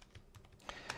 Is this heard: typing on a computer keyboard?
yes